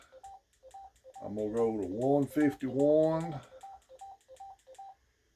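Keypad beeps from a Yaesu FT-4x handheld ham radio while its tone frequency is set: short, evenly spaced electronic tones before and after a stretch where a person speaks over a quiet background.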